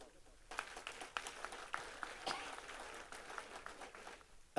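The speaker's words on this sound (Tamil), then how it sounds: "இப்போ எல்லாரும் கைதட்டினீங்க, மகிழ்ச்சி." An audience claps at a comedy debate, a steady patter of many hands at middle distance that lasts a few seconds before dying away.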